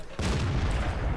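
A tank cannon fires in World of Tanks, one sudden heavy boom followed by a deep, rumbling low-end tail that holds through the rest of the moment.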